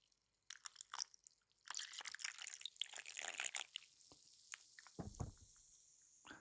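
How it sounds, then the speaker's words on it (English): The last bit of a morning drink is poured into a cup, giving a faint, close, crackly trickle in uneven bursts that settles into a steadier stream before ending in a few scattered drips and clinks. "I got a little bit left. I got to pour that in."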